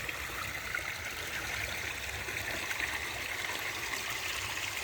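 A small stream flows and gurgles steadily near a fishing spot, a soft continuous trickling wash heard close up with no voices.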